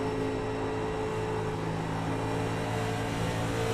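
A race car engine drones steadily in a sim race at Dover, a continuous tonal hum at a fairly even level with no clear lift or revving change and no voices.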